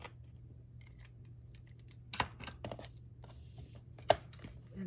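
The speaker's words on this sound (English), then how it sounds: "So I'm just gonna grab my scissors," Quiet room with a couple of sharp snips of scissors cutting, separated by soft handling and rustling sounds.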